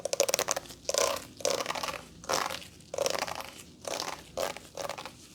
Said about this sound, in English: Yes, it is brushing your hair.